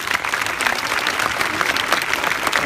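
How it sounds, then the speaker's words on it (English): A school audience gives a panel a dense, sustained round of applause, loud and continuous throughout. "can I get a nice round of applause for the panel?"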